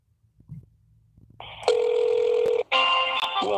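A telephone rings while a caller waits for Medicare to answer: two loud, sustained electronic ring tones after a faint, quiet start.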